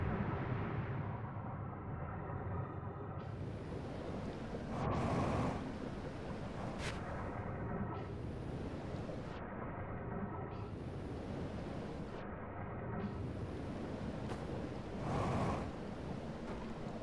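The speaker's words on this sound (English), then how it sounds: "A dam just broke. Oh. I'm sinking into the water." Floodwater surging from a broken dam in the space exploration game Outer Wilds, a continuous deep roaring wash with rhythmic hissing swells rising and falling every couple of seconds.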